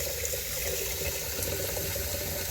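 Water gushing from a garden hose in a steady, dense hissing spray, close and continuous without any voices.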